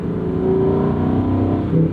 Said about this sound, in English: Oh, the sound, the way it builds to red line, it just eggs you on to push it harder.